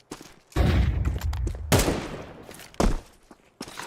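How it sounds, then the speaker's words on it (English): A flashbang grenade thrown during a round of Counter-Strike, followed by loud, sharp bursts and a bang with a trailing hiss, then another pop near the end, all close and alone without talk. "Throwing flashbang."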